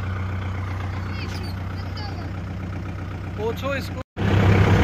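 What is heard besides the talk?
Kubota 4501 tractor engine pulling loaded sugarcane trolley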